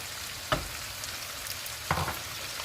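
Tomato paste fries with chicken in a pan for kabsa, a constant close sizzle punctuated by two distinct stirring knocks.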